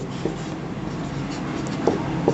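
Chalk or a marker writes on a board during a class 8 math lesson, producing a few faint taps and strokes over a steady room hiss.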